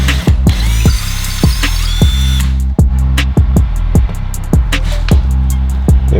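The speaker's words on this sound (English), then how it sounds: "I'm gonna drill a hole first for the wall anchor" A power drill drilling a hole in a wall for a wall anchor runs steadily with a rapid, regular clicking ratchet-like pulse, loud and close, ending with a string of sharp ticking sounds.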